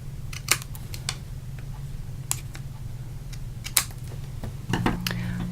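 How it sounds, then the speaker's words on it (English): Several sharp, quick snips and clicks as scissors trim a ribbon bow, scattered across a quiet room hum, close by, with brief pauses between cuts. "you're going to get your scissors, nice sharp scissors, and you're going to trim your bow."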